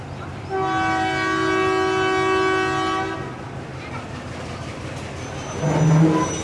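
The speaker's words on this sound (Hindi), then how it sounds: "एक ही मिनट का स्टॉप ओवर करने के बाद जंड पैसेंजर नमल स्टेशन से रवाना" The Jand passenger shuttle train departs Namal station with a long, loud horn blast of about three seconds, followed by a low rolling rumble of the train getting under way and a brief louder burst near the end.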